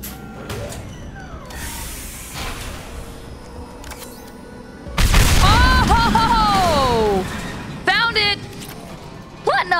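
A grenade goes off in Mass Effect 2 as a sudden loud boom that sets off a burst of rumbling, whining game effects. Scattered clicks and sweeps come before it, and a person talks over the noise.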